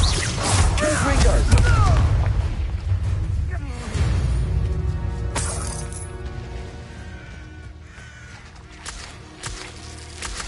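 A Confringo spell blast bursts out in the Hogwarts Legacy video game, a loud explosive boom rolling into a fading rumble and crackle, layered over a busy game score with voices around it.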